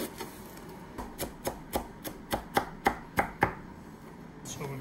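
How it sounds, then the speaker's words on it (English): A knife chops a quarter of a medium onion very finely on a cutting board for chicken bruschetta, about a dozen crisp, evenly paced thuds in close succession, then a brief pause, with no voices. "I want to cut it really small. So it's 1/4 of a medium onion."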